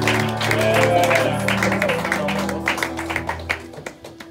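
A church congregation applauding the Lord during a worship conference, with a broad wash of clapping that thins toward scattered claps, under voices and a sustained musical tone.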